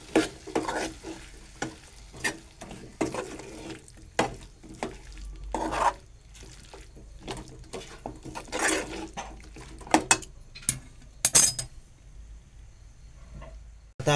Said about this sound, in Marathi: आता त्याच्यामध्ये मी बटाटा आणि फ्लावर हे पण टाकतो. ते पण एकत्र करून घेतो.